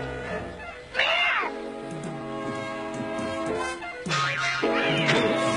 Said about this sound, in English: Oh, you miserable cat, Asriel